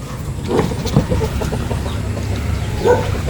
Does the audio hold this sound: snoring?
no